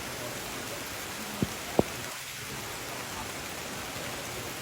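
Steady rain falls in a dense, even hiss over an outdoor enclosure where sun bears play-fight, with two brief sharp knocks partway through and no voices.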